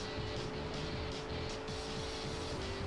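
A car engine in the Auto Modellista racing game screams at redline in first gear, a steady, strained high-revving whine holding constant with faint tire and road noise beneath.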